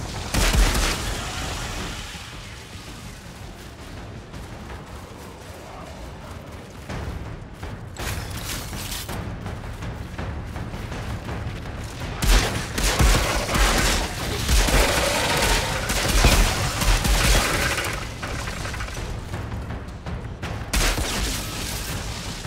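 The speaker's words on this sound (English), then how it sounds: "this is a single fire assault rifle" A single fire assault rifle firing in the Outriders video game, heard as a sustained run of rapid, loud gunshot bursts and booms over a dense, busy combat soundscape with no talk.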